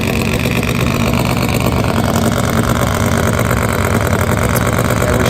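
A turbocharged Kawasaki KZ drag bike and a Harley at a drag race produce a loud, dense engine roar, a constant rumbling drone that fills the scene without pause and with no audible talking.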